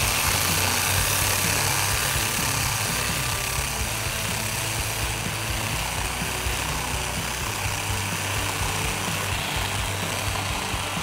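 A Dnipro-M electric drill bores a hole in a crash test, a loud continuous grinding roar that runs without pause throughout.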